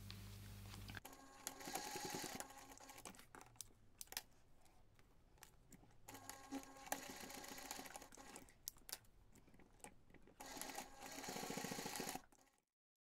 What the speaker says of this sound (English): take this to the machine, sew the seam along this bottom line, and then baste your side edges